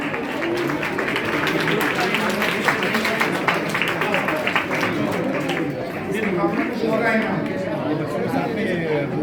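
An audience at a children's Urdu book fair prize ceremony at Urdu Ghar, Mughalpura, Telangana, claps steadily and fairly loudly, with a continuous murmur of crowd chatter underneath.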